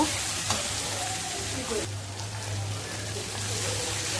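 Maggi noodles and egg fry in a pan with a steady, close sizzling hiss that continues unbroken, with a few faint stirring scrapes and no talking.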